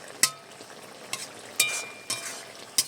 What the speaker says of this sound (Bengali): জিরে মরিচের গুঁড়োটা দিয়ে আমি একটু বেশ সুন্দর করে নেড়ে চেড়ে নিচ্ছি